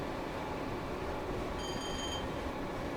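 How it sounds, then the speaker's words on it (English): A single clear AWS warning chime sounds for about half a second in a British train cab on the Newton to Glasgow Central Cathcart Circle line in Train Sim World 5, ringing over the low, steady rumble of the moving train. "There's something about like the dinging sound of old trains that is just so good."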